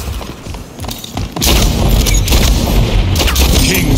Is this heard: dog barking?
no